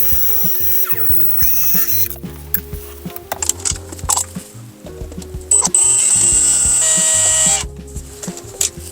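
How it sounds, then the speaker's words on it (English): A ratcheting tool removes screws from the dashboard trim of a BMW X5 E70, giving close mechanical clicking, short whirring runs and a sustained high whine in the middle, with no talking. "I'll go ahead and remove these screws here."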